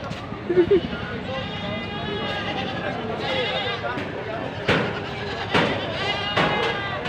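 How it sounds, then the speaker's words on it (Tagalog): Goats bleat repeatedly nearby at a livestock goat market, overlapping cries rising over a busy background while a person talks. "Nandito pala yung maraming magagandang kambing."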